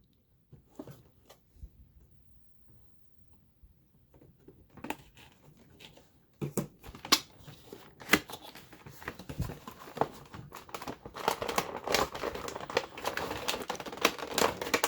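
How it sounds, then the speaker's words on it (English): A Marvel Legends Deluxe Thanos action figure is worked free of its plastic packaging. Sparse faint crinkles give way to dense, close plastic crackling and clicking that grows louder toward the end, with no talking. "let's go ahead and break this bad boy out of the package"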